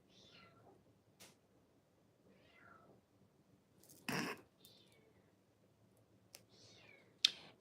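An outdoor cat meows at a door wanting to be let in, several drawn-out rising cries spread across the stretch with sharp clicks and knocks between, fairly faint over low background hum.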